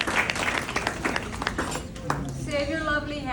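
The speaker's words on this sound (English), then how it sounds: "You don't have to clap for the poems." A small poetry-reading audience claps after a poem, a brief scatter of applause that fades as a voice begins speaking over the last claps.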